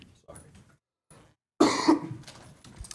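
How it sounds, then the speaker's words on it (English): A person coughs twice in a close, loud burst in the middle, with faint indoor sounds and quiet murmurs before and after. "And please excuse my coughing."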